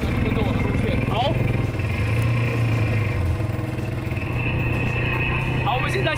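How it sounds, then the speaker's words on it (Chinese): A beach ATV's engine runs steadily on a grass practice area on a scenic coast, a close, continuous motor drone with slight revs. "OK， 那先帮你发动车辆。"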